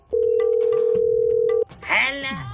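A telephone call placed to an AC repair service: a steady tone runs for about one and a half seconds, then cuts off and gives way to a brighter warbling ring that holds to the end.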